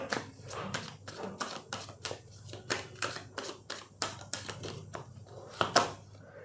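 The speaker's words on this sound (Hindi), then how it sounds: "मैं पहले पूरे कार्ड्स निकालूंगी फिर रीडिंग करूंगी। सो अगर आपको शफलिंग अच्छी नहीं लगती है तो आप स्किप कर सकते हो" Tarot cards shuffled by hand in a quick run of sharp riffling snaps and soft slides, close and clear, with no talk.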